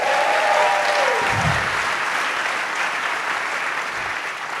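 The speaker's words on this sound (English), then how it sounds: "Give them a round of applause, please." Steady applause from a plenary audience at a Detroit summit, dense clapping holding evenly throughout, with a brief tonal sound and a voice fading under it at the start.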